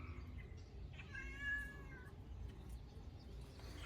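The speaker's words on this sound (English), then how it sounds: "This video is brought to you and interrupted by Nori the cat" A cat gives a single clear meow, fairly close, rising and falling over about a second against a low background rumble, with no talking.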